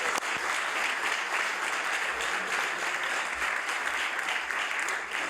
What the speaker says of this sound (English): perhaps the members could give him a round of applause